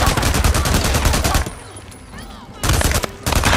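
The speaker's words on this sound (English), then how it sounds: "I need cover! Shoot him!" Rapid bursts of automatic gunfire in the Days Gone video game at an enemy camp, loud sustained volleys that drop out briefly and then resume.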